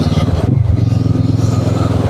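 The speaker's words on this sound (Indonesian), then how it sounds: "Kawasaki ER6 ini untuk akselerasi nggak pernah mengecewakan saya ya" A Kawasaki ER6N with a 650cc parallel-twin engine accelerates, its pulsing exhaust drone loud and close and climbing in pitch, with steady rumble and wind buffeting throughout.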